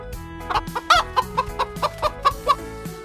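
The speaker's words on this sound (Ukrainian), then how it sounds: "Так, це курочка." A hen clucks repeatedly in a steady series of short, close calls, with a faint musical tone underneath.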